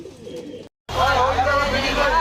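Newly received Andhra pigeons coo in warbling, rolling calls at a Siliguri bus stand, close and clear over a low background hubbub after a brief gap.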